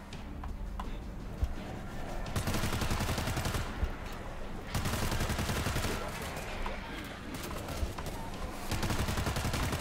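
Automatic gunfire in the World War Z video game comes in long, dense bursts separated by brief lulls, loud and crackling throughout.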